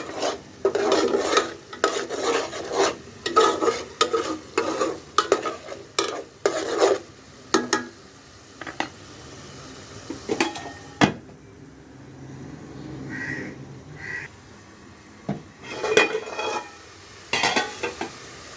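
Spice masala frying in a little oil for a mutton curry, stirred with rapid rasping scrapes in bursts that pause midway, then return more sparsely over a low sizzle.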